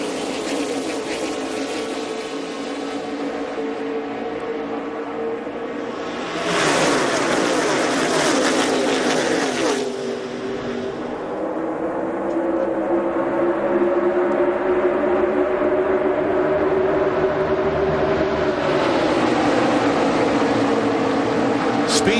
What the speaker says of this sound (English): Let's go racing at 200 miles an hour, boys and girls.